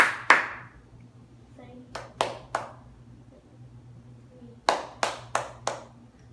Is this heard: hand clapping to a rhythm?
yes